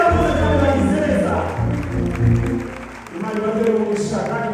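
Church audience applauding singers Gisele and Alexis, a broad wash of clapping and crowd noise that rises, dips midway, then swells again, mixed with voices.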